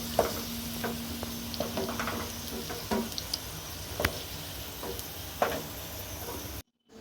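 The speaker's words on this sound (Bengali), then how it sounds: "এরকমভাবে আলু আর পটলগুলোকে আগে ভেজে নিতে হবে" Steady sizzling of food frying in hot oil, broken by scattered scrapes and clinks of stirring, then a sudden cut to silence at the end.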